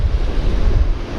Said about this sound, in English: That wind is really picking up now.